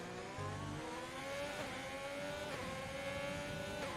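A Formula 1 race car in F1 2020 on the Hungarian GP circuit entering the pits, its high-pitched engine whine holding steady with gentle pitch shifts and a couple of gear changes, loud and close.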